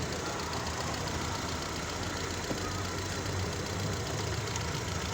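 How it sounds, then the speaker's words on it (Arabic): An Opel Vectra engine idles steadily after a cylinder head rebuild, a dense, even running hum with a faint rhythmic knock beneath it, close and continuous with no talk. "صوت الموتور اهو بعد تقفيل وش السلندر"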